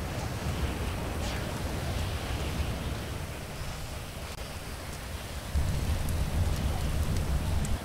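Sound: rain and thunder in the video game FiveM

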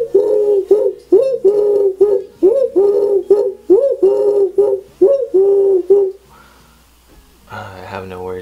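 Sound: human imitating a second kind of dove call

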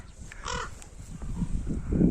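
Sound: ravens cawing over an apple orchard

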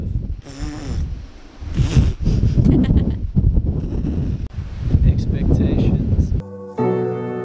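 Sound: strong wind blowing at the beach, on the microphone

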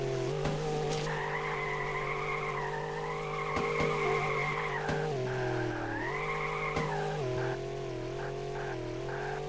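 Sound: racing car drifting and tire skidding in a video game

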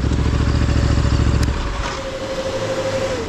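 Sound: Ducati Desert X motorcycle riding enduro trail

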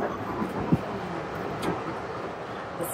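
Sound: riding a train in Vancouver

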